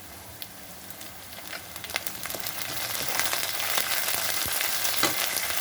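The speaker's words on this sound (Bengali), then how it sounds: "এখন প্রথমেই দিয়ে দেবো কারি পাতা।" Curry leaves hit hot mustard oil and crackle and spit, sharp pops scattered over a sizzle that grows steadily louder and denser.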